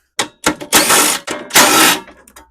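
A tool works 10mm bolts loose on an Ariens snowblower in several close, loud mechanical bursts of ratcheting and whirring, separated by short pauses.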